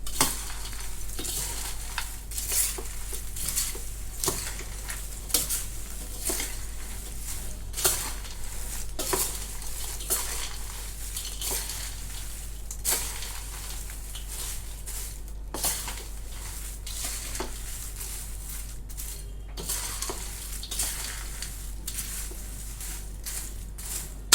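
Maize poha chivda stirred and tossed in a pan, with a steady run of scraping, rustling strokes and a light sizzle, close and continuous throughout.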